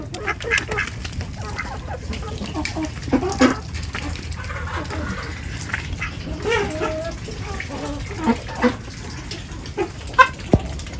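Ducks dabble and smack wetly in mud at close range, with scattered soft quacks and squelchy bill sounds over a low background hum.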